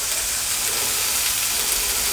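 Onions and radish greens cook in a pan with a continuous soft, bright sizzling hiss, even and close throughout.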